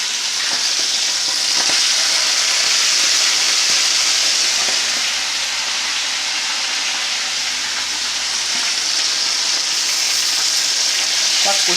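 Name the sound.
fish pieces frying in hot oil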